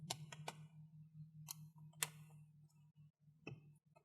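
Keyboard latches on a Dell Vostro 3500 laptop being popped loose during disassembly, giving several sharp, close plastic clicks scattered irregularly over a steady low hum.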